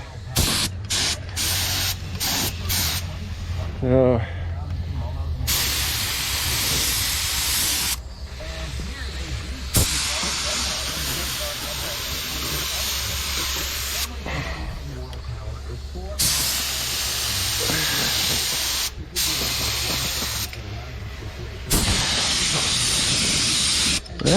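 Aerosol can spray paint hissing in long sustained bursts with short pauses between, close and loud, while working on a CUCV M1031 military truck; a few faint rattles of the can between sprays.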